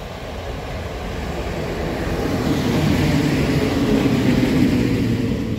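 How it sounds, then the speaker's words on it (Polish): Electric train hauled by Polish EU07-368 locomotive arriving at a station on the Porta Moravica EC/IC 106 route, a steady rumbling roar that grows louder and closer over several seconds with no talk. "Lokomotywa prowadząca"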